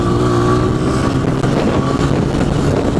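A dirt bike engine revs hard and loud at full throttle out in the woods, a continuous close buzzing roar with slight pitch wavers and no break.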